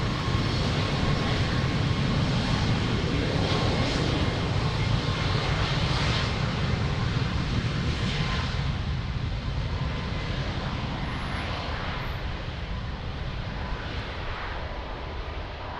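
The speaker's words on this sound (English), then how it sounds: "Did you see the big boy taxiing 777?" A Boeing 777 jet taxis at Lisbon Airport, its engines giving a loud, steady roar that fills the whole stretch and eases slightly toward the end.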